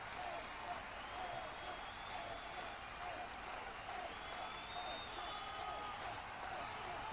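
A stadium crowd at Arsenal's Champions League match against Atletico sends up a continuous roar of cheering and applause, heard as a broad, distant wash with faint whistles drifting over it.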